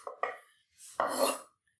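A human voice imitates a knife chopping garlic finely on a board while cooking, giving two quick clipped bursts followed by a longer, louder rough burst, close and fairly quiet.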